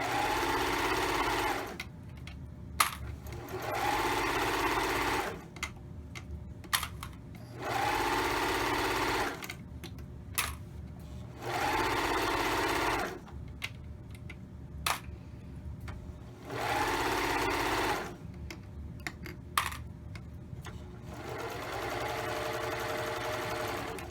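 A sewing machine stitches a 1/4 inch seam on a romper in several separate bursts of steady whirring, each a few seconds long, divided by quieter pauses with faint handling sounds.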